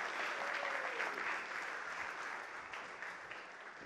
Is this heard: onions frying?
no